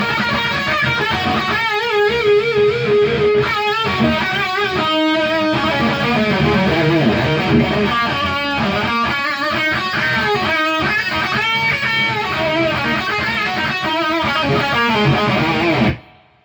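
An electric guitar plays distorted leads through a Marshall Valvestate 8100 amp with added reverb, loud and continuous, with busy note runs that ring into each other before an abrupt stop at the end.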